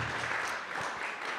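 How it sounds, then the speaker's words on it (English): Brief audience applause at a church gathering, a soft, even patter of clapping heard from a distance, fairly quiet and with no voices on top. "So Let's give Bobby G a round of applause"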